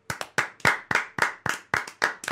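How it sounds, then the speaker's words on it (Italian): Hand clapping opening the second season of an Italian comedy radio show, about nine distinct sharp claps in a steady rhythm from a small group, close and clear with no voices. "Un applauso."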